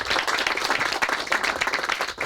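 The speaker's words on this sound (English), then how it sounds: "Let's give him a big round of applause." Dense, lively applause from a crowd at a San Ramon project ceremony, many hands clapping together loudly and evenly throughout a short burst.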